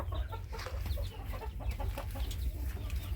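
Chickens cluck repeatedly near a coop where hens are laying eggs, giving close, busy, overlapping calls over a low background rumble, with no talk.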